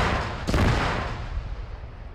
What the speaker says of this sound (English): the fuel tanks actually blew up